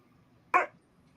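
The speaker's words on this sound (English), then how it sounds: "The Huskies say hello, everybody." A husky gives a single short bark, close and fairly loud, in an otherwise quiet room.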